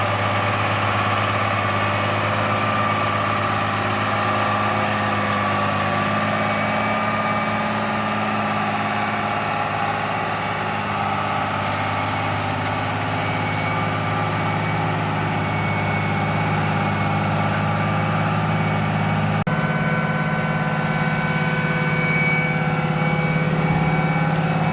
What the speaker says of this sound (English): That cheap chisel plow works pretty dang good.